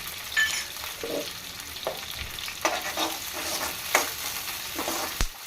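Green chillies for a palak potato curry fry in hot oil in a pan, a steady sizzle broken by several sharp scraping stirs of the spatula, close and moderately loud, with no talking.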